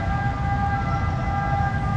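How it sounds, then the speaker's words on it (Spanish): An ambulance siren passes close by on a city street in Italy, its steady wailing tones loud and continuous with no talking. "ahora la ambulancia es que nos pasa justo al lado"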